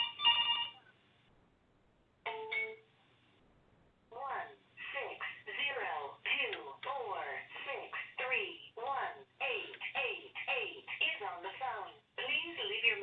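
An incoming call rings on a mobile phone, a repeating electronic ringtone with a short opening burst, a pause, then a steady run of warbling tone pulses for several seconds, fairly loud and close, with no talk over it.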